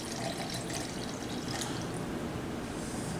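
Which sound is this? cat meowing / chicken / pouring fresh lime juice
pouring fresh lime juice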